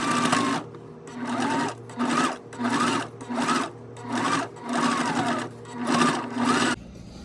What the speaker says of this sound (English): now I'm going to stitch down the top of that at 1/8 of an inch